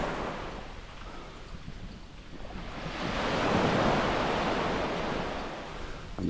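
Surf rolls onto Klong Kloi Beach on Koh Chang as a broad steady wash with one slow swell building and easing, mixed with wind noise, no voices.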